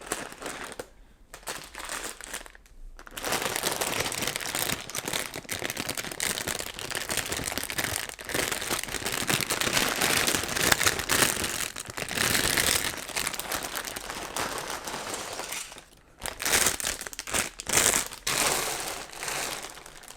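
A crinkly plastic Lego parts bag is opened, producing loud, close crackling and rustling that runs almost continuously for about twenty seconds, broken by a few short pauses.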